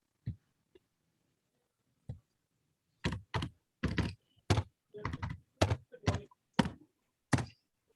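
Typing on a computer keyboard to enter text into a chat box during an online meeting: a few isolated taps, then a quick irregular run of about a dozen close, crisp keystrokes with no talking.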